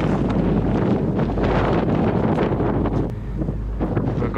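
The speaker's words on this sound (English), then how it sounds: "It's super windy. In some of the places, the wind is super strong." Strong, constant wind on a mountain peak in Baxter, Maine, roaring and buffeting close to the microphone, a dense rumble with gusty fluctuations throughout and no speech.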